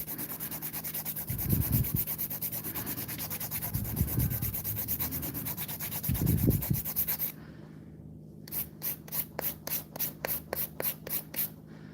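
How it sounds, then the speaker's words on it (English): A nail file works over acrylic nails, first in three slower rasping passes, then in a quick run of short, even back-and-forth strokes, close and clear. "So it's filing everything even."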